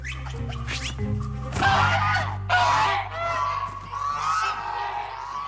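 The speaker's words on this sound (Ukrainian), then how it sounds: "Такий крик буде чути навіть у понівілі" Shrill, harsh screeching calls repeat in bursts over a steady low hum, loud and close, like an animal or bird screaming.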